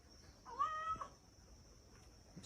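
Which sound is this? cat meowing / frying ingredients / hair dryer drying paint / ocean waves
cat meowing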